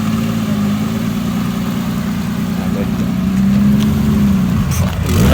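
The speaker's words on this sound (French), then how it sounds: "Check-moi le moteur." A car engine revs and holds a steady, loud drone close by on a sandy off-road outing, the pitch rising and swelling in the second half.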